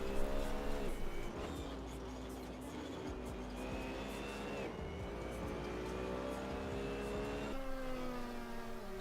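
A BMW Z4 GT3 races around Spa-Francorchamps in Assetto Corsa, its engine climbing through the revs with distinct gear changes every couple of seconds, steady and alone with faint tire noise.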